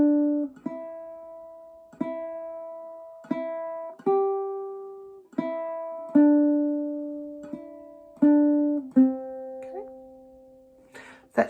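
Clawhammer-style ukulele plays the Wildwood Flower melody alone, a steady run of plucked notes with brushed strums in a bouncing rhythm, close and clear, ending on a brief strum.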